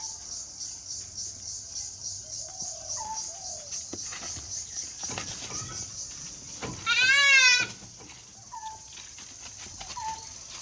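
Black Bengal goats on a rural farm among fruit trees and bamboo, with several short bleats scattered over a steady background hum and one loud, close, wavering bleat partway through.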